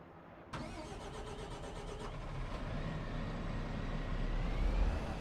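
A mower engine in Farming Simulator 25 cranks and fires with a sharp start, then settles into a steady, fairly loud running drone that slowly builds in volume, with no talking.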